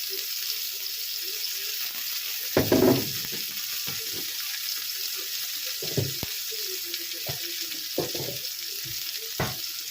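Milkfish (bangus) fries in olive oil with a steady background sizzle, broken by a few sharp pops and bursts of spattering.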